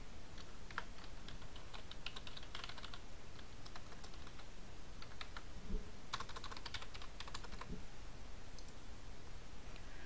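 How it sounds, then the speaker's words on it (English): Steady typing on a computer keyboard fills the stretch, a continuous patter of close key clicks with brief bursts and pauses, played alone at a quiet level with no voices. "You then want to type in ccc.blackboard.com."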